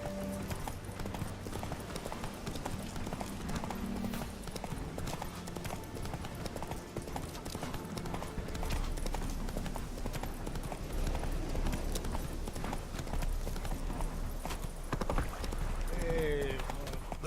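Roach, the horse in The Witcher 3, gallops with steady rapid hoofbeats throughout over in-game ambience.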